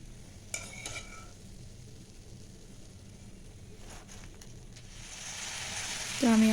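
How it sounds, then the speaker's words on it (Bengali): Boondi gently stirred in hot oil while making malai boondi: a faint, steady sizzle with a few light scraping and clinking touches, the frying hiss swelling toward the end as the drops are lifted out. "এবারে হালকা নাড়াচাড়া করে আমি বোঁদেগুলো উঠিয়ে নেব।"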